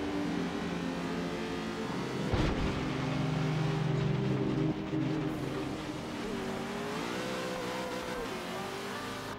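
In Forza Horizon 3, the engine of a PXH service truck drones at a steady pitch, swells with a revving burst early on, then settles into a sustained hum as the pitch shifts.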